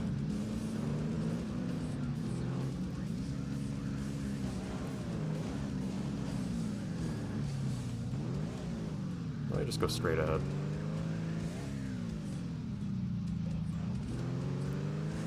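A truck engine drones as it drives offroad in ATV Offroad Fury 4, its pitch rising and falling with the revs over uneven terrain, while someone talks over it.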